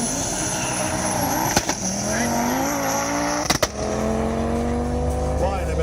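A 700 hp Audi 200 20v 2.2 turbo launches hard, its engine note climbing through the gears with loud, close revving and brief shift breaks while a commentator talks over it.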